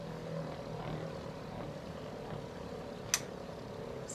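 Beyblade spinning tops, a Pegasis and a Sagittario, whirring steadily as they circle each other in a stadium, a continuous mid-level hum with one sharp metallic clack near the end.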